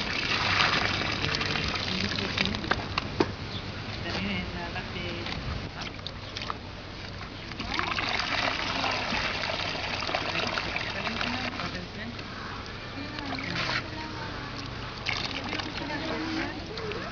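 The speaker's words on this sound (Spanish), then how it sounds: "con agua limpia la escoria de carbón para limpiar todas las impurezas que pueda contener" Water pours over coal slag to rinse out impurities, a continuous rushing and trickling wash that keeps running at a moderate level while a person talks over it.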